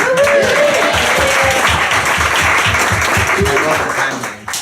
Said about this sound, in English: How about a round of applause for that moderator?